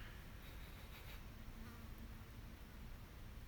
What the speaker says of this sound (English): there's a fly buzzing around here